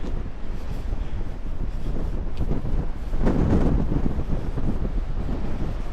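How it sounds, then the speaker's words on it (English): Strong wind buffeting the microphone by a rough, angry sea at Marazion, a steady loud roar with a gust swelling around the middle and no talk. "The wind is horrendous, but it's because it's so windy."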